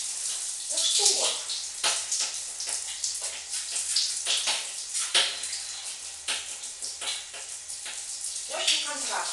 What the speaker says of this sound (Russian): Контрастный душ, окно открыто.